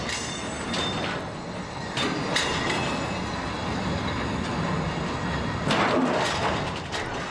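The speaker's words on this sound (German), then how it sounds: "Ein Güterzug rollt zum Ablaufberg." A freight train rolls toward the hump at Dresden-Friedrichstadt marshalling yard, a steady close rumble of wagons with occasional wheel squeals and clicks, continuous and fairly loud without talk.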